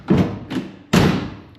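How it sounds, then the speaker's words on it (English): A storage area door on a C2 Corvette shuts with three close, dull thuds, two lighter ones followed by a firmer final closing thump. "the door closes"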